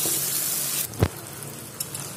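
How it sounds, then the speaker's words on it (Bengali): About a cup of chopped onions sizzles steadily in a hot pan with spices, then a single stirring scrape and a few small clinks break the hiss; no one speaks. "পেঁয়াজটাকে এখন মশলাটার সাথে খুব ভালো করে মিশিয়ে দেব।"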